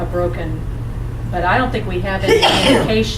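A person sneezes once during a discussion of street repairs, a short burst near the end while another person keeps talking over steady room noise.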